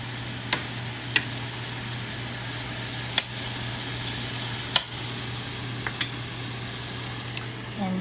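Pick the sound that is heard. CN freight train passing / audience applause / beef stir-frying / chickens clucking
beef stir-frying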